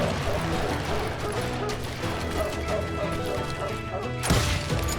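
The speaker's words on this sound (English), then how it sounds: "you get points for shooting objects around here" Objects smash and crash when shot in the cowboy shooter game Call of Juarez: Gunslinger. Dense, loud clattering impacts and mechanical rattles fill the clip, ending in a sharper crash.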